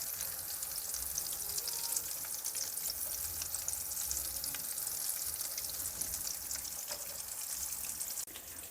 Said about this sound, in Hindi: शैलो फ्राई करेंगे मीडियम आंच पर।